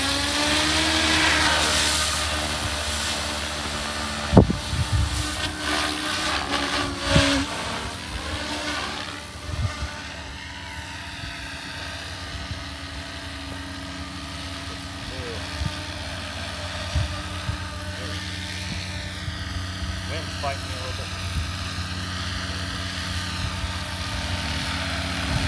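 A Goosky RS4 radio-controlled helicopter spools up, takes off and flies outdoors in some wind, its rotor whine rising and shifting in pitch as it moves, heard close and steady, with a few thumps early on.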